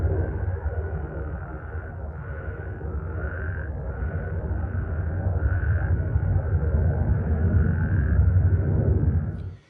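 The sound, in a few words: frog chorus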